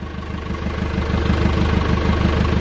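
An old International truck engine with a stuck throttle runs steadily after firing up, a close, even low rumble with a faint rhythmic pulse throughout.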